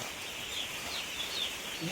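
Chickens at a chicken farm cluck and call amid a busy, noisy barnyard din, with scattered bird cries rising over a constant background and some voices nearby.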